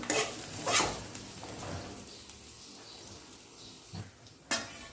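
A spoon clanks and scrapes in a pan as carrots are stirred into fried onions, with a few loud knocks against the metal and a soft sizzle underneath.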